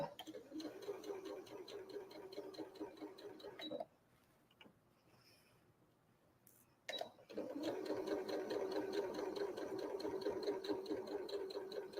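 A sewing machine stitches a thicker fabric section of a ribbon star quilt block beneath the presser foot, a steady fast mechanical whir, loud and close, pausing briefly midway before resuming at full speed.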